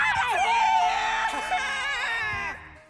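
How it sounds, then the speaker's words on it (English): Anime characters trapped in a giant worm's goop scream for help, loud and frantic, with several wavering high cries overlapping and then trailing off near the end. "screaming for help."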